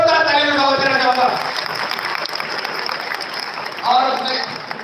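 Audience applause welcoming an IPS officer and university chancellor onto the stage at a One Nation One Election public gathering, sustained clapping under a speaker's voice, easing in the middle and swelling again near the end.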